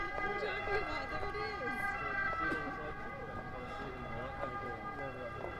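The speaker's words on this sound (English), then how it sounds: "That was that European ambulance sound that I longed for so much" A European ambulance siren passes through the streets of Rome, its two-tone wail moderately distant and rising then fading among city noise, with people talking over it.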